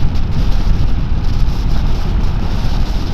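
Blustery wind buffets the microphone while riding a Voge R625 motorcycle, giving a loud, continuous low roar with no talking.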